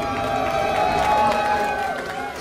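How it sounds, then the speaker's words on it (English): A lively esports arena crowd at a 2015 League of Legends championship match cheers steadily throughout, a dense, sustained roar of many voices with a commentator's voice mixed in. "Sprightly crowd for the final game we have here of the day"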